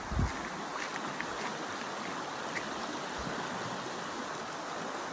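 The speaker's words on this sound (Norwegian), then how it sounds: "Som gjør at det blir vann i bekken igjen." Steady broadband rush of water flowing in a brook, continuous and fairly close, with no voices over it.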